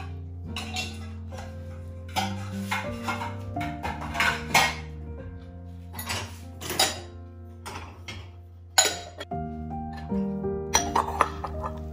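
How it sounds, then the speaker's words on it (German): Dishes and cutlery clink and clatter in irregular bursts as they are unloaded from a dishwasher and set down, close by, with a steady background hum. "mit dem Geschirr und damit die Spülmaschine auszuräumen"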